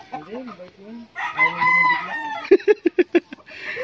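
A rooster crows loudly and close by, one long drawn-out call followed by a quick run of sharp clucks, with brief background voices.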